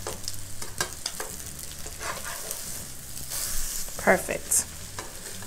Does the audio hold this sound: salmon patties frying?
yes